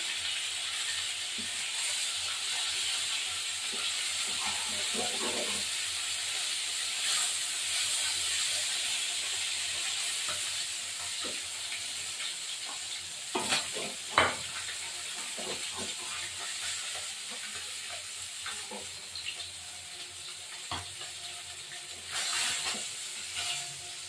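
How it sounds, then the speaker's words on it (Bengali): Spice paste frying in oil for a Bengali fish curry with coriander leaves and tomato, giving a steady hiss and sizzle throughout, with a few brief clinks and scrapes near the pan and no talk. "এই তেলে আমি আর তেল দেব না, মশলাটা কষাবো"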